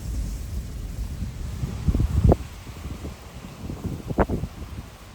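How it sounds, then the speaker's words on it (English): Strong wind, sustained at 30 to 40 miles per hour in the high desert, roars and buffets a microphone in low rumbling gusts, with two sharper blasts standing out; no voices. "It is insanely windy here right now"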